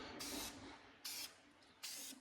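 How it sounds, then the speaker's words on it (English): Three short bursts of aerosol oil sprayed onto a K&N air filter, each a crisp hiss lasting about a quarter to half a second, close and clear, separated by brief pauses. "when I do the oil, I'm doing a bit of a test here. It's a bit like spray painting"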